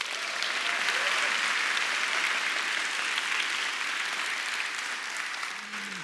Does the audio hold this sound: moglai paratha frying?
no